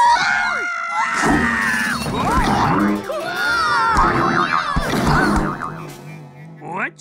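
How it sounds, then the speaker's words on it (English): A cartoon scream screen alarm goes off in an animated children's math show, a loud, continuous warbling of swooping, sliding electronic tones with scream-like wails that fills about seven seconds. "The scream screen always surprises Goo"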